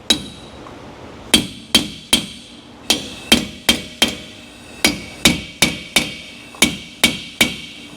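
A hammer tapping a pinion bearing race into a 2005 Ford F-150 9.75-inch axle: sharp metallic taps in irregular pairs and clusters, about fifteen strikes, each ringing briefly, close and clear with no talking.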